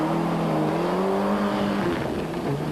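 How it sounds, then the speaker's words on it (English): Two Ford Escort Cosworth rally cars race on a Galway stage, their engines roaring loud and close. A steady, high-revving drone shifts in pitch as they accelerate and ease off, with no voices over it. "Now for the 2 Escort Cosworths, Eamon Boland on top and Stephen Murphy below"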